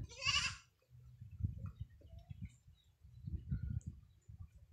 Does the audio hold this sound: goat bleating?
yes